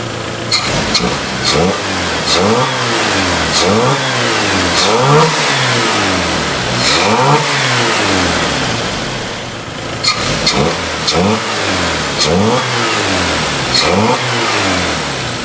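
The engine of an abandoned Jeep, running again after a faulty injector was replaced, revs up and falls back repeatedly in rising and falling cycles, loud and close, with no voices.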